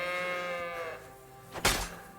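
A sheep bleats in a medieval video game, one wavering bleat that fades into quiet, followed by a short sharp impact.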